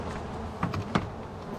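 Honeybees hum at a busy, aggressive hive in Alaska, a close, continuous buzz with a couple of brief, louder passes as individual bees fly near.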